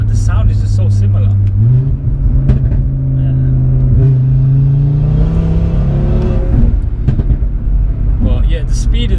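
A mapped 500 bhp Audi RS3 roars as it accelerates, its engine note climbing through the gears in a loud, steady pull heard from inside the car, with people talking over it.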